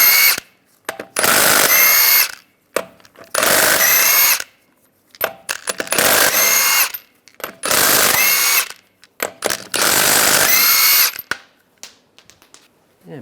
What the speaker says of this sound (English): Using a 22mm socket,